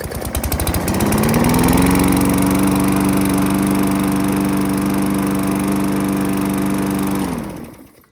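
A lawn mower engine starts on a pull, catches and settles into a loud, steady running drone with a strong even hum, holding for several seconds before winding down and cutting off.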